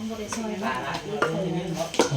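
Knife chopping food during morning cooking prep for a new shop's menu, with several sharp, irregular chops on a board heard under continuous close talking in Thai.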